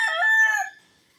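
A gamecock kept for cockfighting gives a single close, loud crow that tails off quickly.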